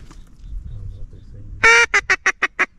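Teal ducks on public hunting land in Louisiana call as a flock, starting with one louder note followed by about five rapid, evenly spaced calls, near and clear over a quiet low rumble.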